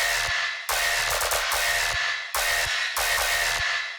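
Tearout dubstep bass drop from homemade bass samples, run through group processing in Snap Heap: dense, thick, aggressive bass stabs play almost without a break. The phrasing is rhythmic and the sound is loud and full, with no talking.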